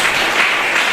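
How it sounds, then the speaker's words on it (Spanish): A church congregation claps together in a short, dense burst of applause, steady and fairly loud for about a second. "Vamos a darle un fuerte aplauso al Señor."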